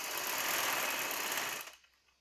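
A sewing machine runs steadily, stitching the yoke of a baby's summer frock, with a dense continuous whir for about a second and a half before stopping abruptly into quiet.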